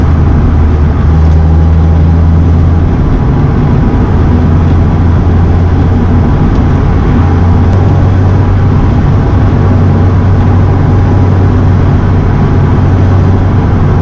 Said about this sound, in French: Juste derrière ton siège, il y a le moteur.